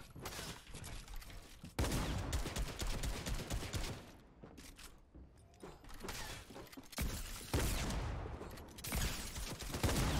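A dense stream of video game gunfire in an arena fight, with many bullets fired in long, nearly continuous loud bursts broken by brief pauses.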